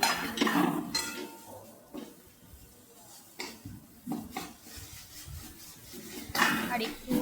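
Ridge gourd peel paste stirred in a pan, a spoon scraping and rubbing against the metal in uneven strokes with brief pauses, close and moderately loud, with a voice talking at times.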